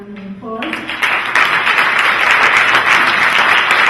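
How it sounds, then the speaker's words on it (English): An audience applauds panelists at a discussion on disruptive technologies in kids' education, clapping swelling quickly into sustained dense applause after a moment of speech. "Well, let's give our panelists a round of applause."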